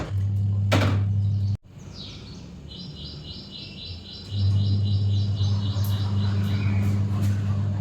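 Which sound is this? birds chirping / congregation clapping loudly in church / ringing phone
birds chirping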